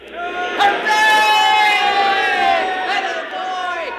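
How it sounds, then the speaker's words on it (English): Thousands of people at a landing field cheer after a rocket touches down, a loud sustained roar of voices with whoops and shouts rising over the crowd, rising and fading in waves. "What's all the cheering about? They're cheering us."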